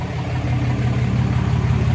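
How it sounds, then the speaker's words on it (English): Cummins 6.7 diesel pickup engine running with a 5-inch straight exhaust off the turbo and no muffler or caps, a loud, steady, deep rumbling drone close by, with no talk. "5-inch exhaust all the way back off the turbo. No caps, no muffler, as you can tell. Sounds like a damn dump truck."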